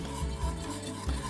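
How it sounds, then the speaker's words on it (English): A whisk works quickly through a hot mixture in a pan over the stove, giving a brief run of soft rhythmic scraping and swishing strokes close by. "And then you whisk"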